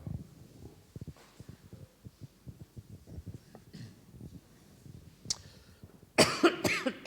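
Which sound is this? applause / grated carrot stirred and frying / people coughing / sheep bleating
people coughing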